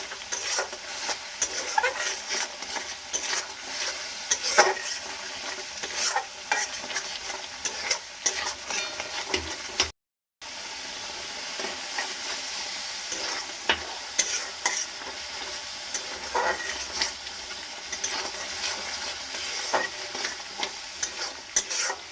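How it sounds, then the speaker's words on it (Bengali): Masala for an egg curry with yogurt is stirred and fried in a pan, a steady close sizzle broken by frequent scraping spoon strokes, continuing throughout with one brief dropout midway. "মশলার পরে সেই জলটা কিন্তু দিয়ে দিয়ে বারবার কষিয়ে নিচ্ছি"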